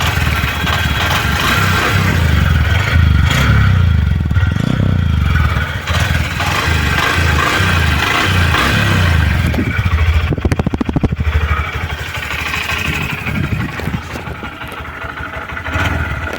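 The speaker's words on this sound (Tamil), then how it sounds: "இன்ஜின் சவுண்டை கேட்டுவாங்க." A 2025 Honda Shine 125 motorcycle engine idles loudly and close by, a steady low rumble with a slight rise in revs partway through.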